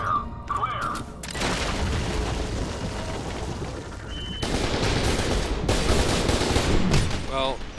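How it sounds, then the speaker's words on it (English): Explosive charges go off in the first-person shooter FEAR 2, with loud booms followed by sustained gunfire-like blasts that surge in two long bursts and carry a few faint game sounds. "Charges are set and ready to fire."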